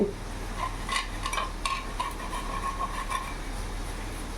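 Potatoes fry in a pan with a steady, moderate sizzle, punctuated by a few light clinks of a utensil against the pan.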